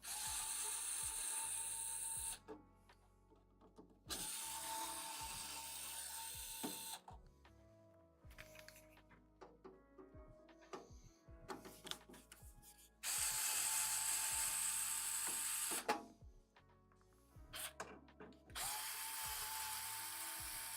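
A power drill whirs in several long bursts as screws come out of a coffee roaster drum. Ratcheting clicks and small metal handling noises fill the quieter gaps between runs.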